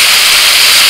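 Tomatoes cooking in mustard oil, a loud, even, hissing sizzle held for a brief moment with no voice.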